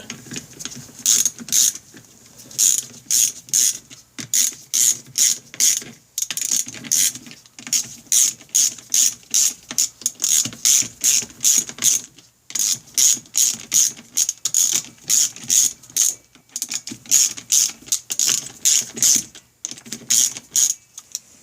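Ratchet clicking steadily in quick bursts while tightening bolts on the aluminum clutch cover of a Honda Rebel 250 motorcycle, close and loud, with brief pauses between runs.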